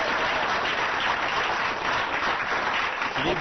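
A studio audience on a French radio game show applauds steadily, a dense, even wash of many hands clapping that fills the whole stretch without letting up.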